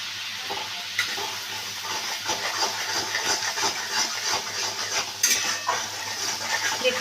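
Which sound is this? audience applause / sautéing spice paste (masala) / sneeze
sautéing spice paste (masala)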